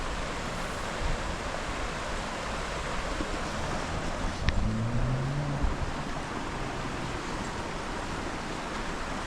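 The Yarra River at Warburton runs over rocks as a steady broadband rush of water, loud and continuous throughout, with wind buffeting the microphone and no voices.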